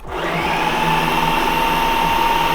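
A Ninja PrecisionPro blender on its puree setting whirs loudly and steadily while blending canned chickpeas, a constant high motor drone starting almost immediately and holding unbroken throughout.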